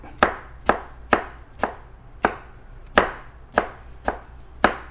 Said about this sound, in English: And then I want to chop. Chop, chop, chop, chop.